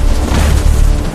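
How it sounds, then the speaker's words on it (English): Cartoon mammoth smashing and destroying trees: a loud, continuous low rumbling crash with booming impacts throughout, heavy and close, with no talk. "Mamonthus is destroying trees."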